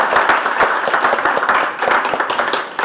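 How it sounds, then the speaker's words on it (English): Loud applause from a conference audience greeting a speaker, steady dense clapping filling the whole moment without any speaking. "let's have a big round of applause for Annamaria Andrea"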